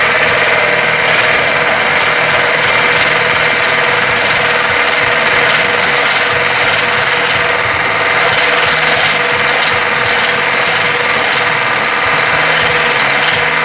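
An electric mixer whipping cream in a home kitchen, a loud, continuous motor whir with rattling vibration that holds steady throughout.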